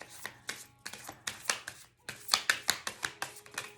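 Tarot cards are shuffled by hand in quick, crisp riffling bursts, a dozen or so sharp slaps in an uneven rhythm, close and alone without speech.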